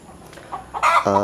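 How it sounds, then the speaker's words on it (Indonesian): Free-range village chickens (ayam kampung) in a backyard coop cluck briefly, then a louder, close call rises sharply near the end of the short clip. "Untuk daging saya ternak juga ayam kampung. Ada 2 kandang seperti ini di belakang rumah."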